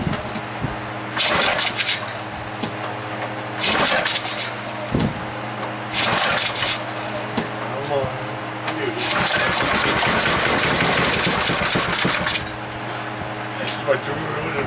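An old rototiller engine is pulled over several times, coughing and sputtering in short bursts before catching and running roughly for a few seconds. People talk nearby between the attempts.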